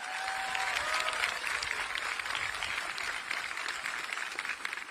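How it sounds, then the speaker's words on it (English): Steady audience applause for special guests at a high school commencement ceremony in Hawaii, moderately distant and continuous for several seconds, with a faint whistle rising near the start. "Let's give a big round of applause to all of our special guests."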